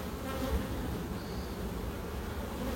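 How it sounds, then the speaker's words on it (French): Honeybees buzz around a hive just moved into a new box, a dense continuous hum from many insects, close and steady with no voices. "Les abeilles retrouvent leur chemin, elles sont toutes contentes, elles ont une nouvelle maison"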